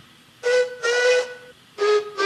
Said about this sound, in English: Donald and Douglas had deep-toned whistles